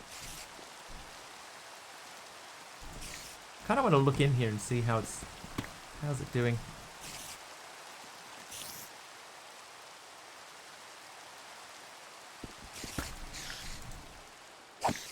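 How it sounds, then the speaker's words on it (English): Rain in the Minecraft video game makes a steady, soft hiss throughout, with someone talking briefly over it partway through. "Oh, it's raining as well."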